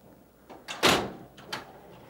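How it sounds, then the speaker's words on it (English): The paper drawer of an HP PageWide XL 4100 large-format printer is pushed shut, a soft slide followed by a firm central thud and a lighter knock afterward, close and without speech. "Last step is just to close the drawer."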